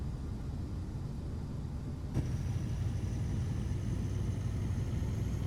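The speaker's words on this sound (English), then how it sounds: "Right here it's slightly noisier because again the engine's at the right at the back" Steady low rumble of a rear-mounted bus engine heard from inside the cabin in the OMSI 2 driving simulator, a constant drone that grows slightly louder and denser partway through.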